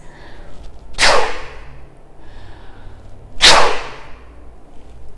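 A person voices an imitation of a whale heard from the beach: two long airy whooshing calls about two and a half seconds apart, loud and close, with no other talk.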